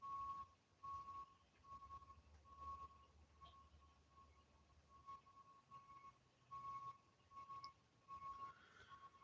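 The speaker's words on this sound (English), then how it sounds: "Do they really have to play that fucking alarm the whole time they back up?" Reversing alarm on a vehicle backing up near a railroad, a steady series of evenly spaced electronic beeps at moderate distance over low rumbling background noise, continuing throughout.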